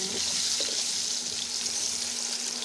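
Potatoes frying in oil in a karahi, a dense, even hiss of sizzling oil with a faint steady hum underneath and a couple of soft stirring knocks early on.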